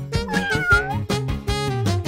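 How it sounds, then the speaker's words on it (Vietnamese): Kittens meow in several short, bright, closely spaced cries, loud and near, one after another with slight pitch bends and no talking between them. "Ồ, mèo con, mấy đứa rất dễ thương."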